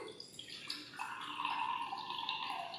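Dirty water pours into a glass, a soft rising trickle and gurgle that fills the short stretch, quiet and close, with no speech.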